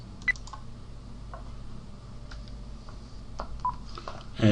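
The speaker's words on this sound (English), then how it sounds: "I got the phone call, I punched in the PIN number, and the verification is complete." PIN digits entered on a phone keypad during an AWS identity verification call: a sparse series of short, quiet DTMF tones and clicks spread over several seconds, with a louder bump at the end.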